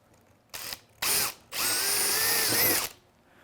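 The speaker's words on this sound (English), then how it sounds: "So here towards the back, we're going to go ahead and drill the next one." A power drill bores a hole through the top wall of a frame above a table, with three bursts of whining motor, short, then longer, the last running steadily for over a second, loud and close.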